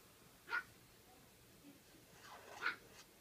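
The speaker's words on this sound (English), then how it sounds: "My dog is barking out there." A dog barks outdoors at a distance, two faint, separate barks about two seconds apart over quiet indoor background.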